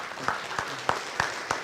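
Audience at a garrison update briefing breaks into applause, a steady wash of clapping with sharper accents recurring about every third of a second, moderately loud and continuous throughout.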